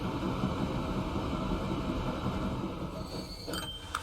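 A train rolls steadily along the railroad in the Transport Fever 2 game, a continuous dense rumble with faint clatter, a few brief higher squeals and clicks near the end, no talk over it.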